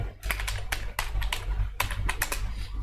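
Code being typed on a computer keyboard, a quick run of crisp, close key clicks in irregular bursts with brief pauses, heard alone without talk.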